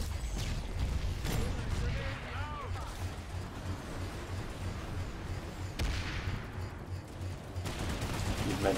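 Gunfire in a shooter video game: repeated sharp shots and short bursts scattered over several seconds amid rumbling battle noise, with a voice talking faintly underneath.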